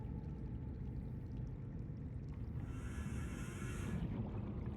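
A submarine hull drains water in Subnautica with a rushing, gurgling flow under a low rumble, joined midway by a brief hissing surge before fading.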